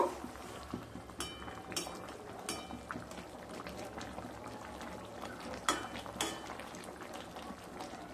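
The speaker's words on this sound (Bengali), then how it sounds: "এবার একটু নেড়ে নেব।" A pot of Bengali parshe fish curry with fried eggplant and bori simmers and bubbles softly while a utensil stirs and lightly scrapes through it, producing faint irregular clicks and wet sloshing.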